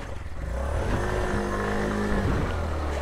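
A motorcycle engine just pulled from water, with water still in its exhaust, starts and runs at a steady, rough idle close by, its low throbbing growl rising slightly in pitch midway.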